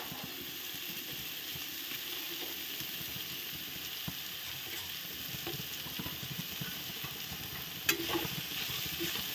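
Chilli, chopped onion and garlic fry in a pan with a soft, steady sizzle, while a utensil stirs them and scrapes the pan at irregular intervals, including one sharper clink near the end.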